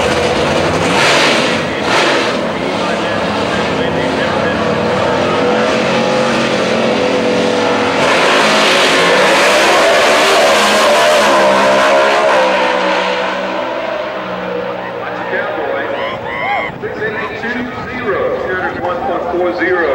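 Pro Stock drag race cars accelerate hard at Houston Raceway Park: a loud, sustained engine roar that builds and then fades as the cars run off, with a commentator speaking over it.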